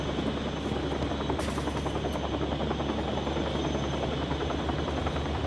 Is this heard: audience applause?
no